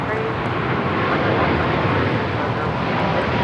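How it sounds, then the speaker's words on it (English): Eva Air 777-300ER rolling for takeoff on runway 25 right at LAX, a steady, broad jet roar that holds loud throughout while a voice talks over it. "Eva Air Flight 5 now rolling on 25 right."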